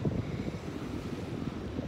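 Big ocean waves wash onto a beach, a low, rumbling surge with wind buffeting the microphone, moderately loud and continuous without talk.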